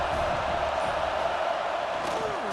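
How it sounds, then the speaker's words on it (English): Football stadium crowd at an AAF game, Oakland Invaders at Las Vegas Outlaws, roaring behind the home defense on third down: a dense, sustained wash of loud crowd noise with no clear breaks throughout. "Decibels rising as the crowd gets behind this defense on 3rd down"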